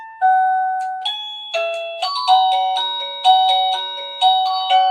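A home security alert device sounds a loud electronic chime, repeating a multi-tone ding-dong pattern again and again, close and clear with no voices.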